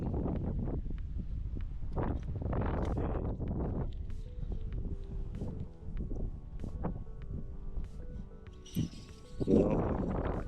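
Strong gusty wind blowing over a microphone while microjig fishing, buffeting in rough low bursts that rise and fall, with a steady hum beneath and a louder gust near the end.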